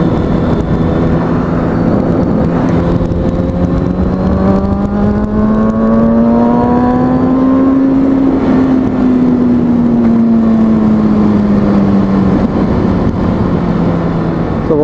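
A motorcycle engine revs through a fast, clean gear shift, a loud, steady, close droning tone that climbs in pitch, peaks, then eases down as the gear changes. No one speaks.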